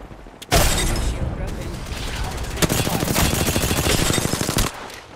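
Rapid automatic gunfire in Apex Legends, a dense sustained burst of loud shots filling the whole stretch, with brief pauses at start and near the end and a voice speaking over the battle.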